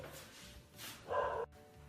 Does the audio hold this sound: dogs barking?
yes